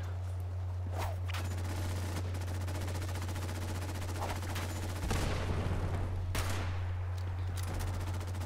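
Fallout 76 gunfire plays as rapid automatic bursts and scattered single shots over a steady low hum, moderately loud, with a louder volley midway.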